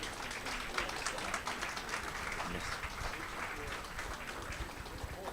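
Steady applause from a sizable audience for a speaker at a conference, dense clapping that holds evenly throughout without pause.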